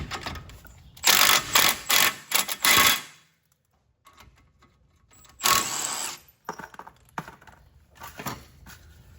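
A socket wrench with a swivel works on a front brake bolt of a 2003 Subaru Impreza WRX: several loud, close ratcheting bursts, a pause, then more short clicking runs.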